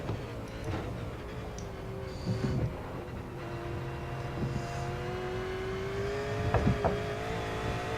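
A V8 Supercar engine in the iRacing sim at Bathurst drones steadily, its revving pitch climbing and settling through gear changes, with a brief sharper rev burst near the end.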